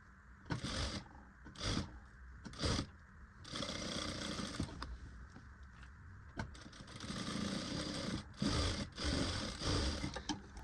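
A sewing machine stitching a katori blouse, with short bursts of rapid whirring at first, then longer continuous runs of stitching, close and fairly quiet.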